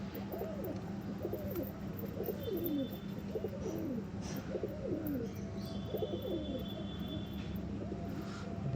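Pigeons coo in a repeated, rhythmic series over a steady low hum of background noise outdoors at dusk, with a faint aircraft drone passing overhead.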